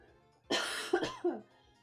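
A woman with a sore throat coughs close to the microphone, one harsh burst followed by two shorter coughs in quick succession, then quiet.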